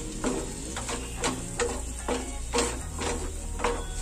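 Grated tomato sautéed with onion in a pan, heard as a soft background sizzle under about half a dozen evenly spaced scraping stirs of a spoon, close and fairly quiet.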